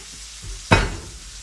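Unsalted butter and smashed garlic cloves hit a hot pan beside a Japanese wagyu NY strip steak, giving a sudden loud sizzle that swells and then fades to a steady low frying hiss.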